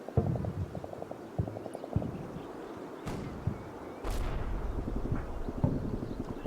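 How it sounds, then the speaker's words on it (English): A tank fires and misses in a war video game, giving a few distant booms with low rumbles and brief sharp cracks over a steady background of crackling fire and battle ambience. "I believe that is a tank shooting and missing"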